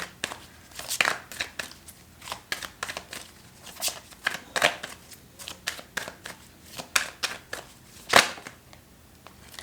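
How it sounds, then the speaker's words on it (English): Tarot cards riffled and shuffled in quick bursts of crisp flutters and snaps, close by, with no talking. "Let me just shuffle for you."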